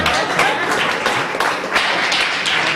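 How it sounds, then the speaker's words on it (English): A round of applause from a blues concert audience, dense and fairly loud clapping that runs steadily through the moment with a little voice mixed in. "Let's give another round of applause."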